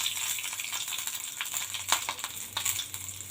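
A bunch of curry leaves drops into hot oil on a just-switched-off stove, tempering for a Kerala-style mustard mango pickle, giving a steady bright crackling sizzle with small pops, close and continuous throughout.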